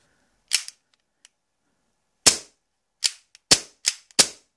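A Western Arms Beretta M84fs airsoft gas pistol fires sharp, snappy shots close by: one, then after a pause a quick series of four or five cracks with faint mechanical clicks between them.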